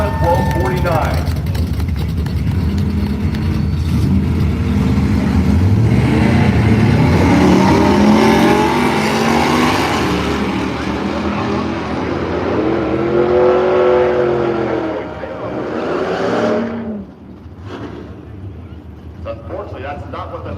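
Race cars roar and accelerate down the drag strip at Firebird Raceway in Boise, Idaho, loud engines rising and sweeping in pitch for a long stretch, then fading out near the end, while an announcer talks over them.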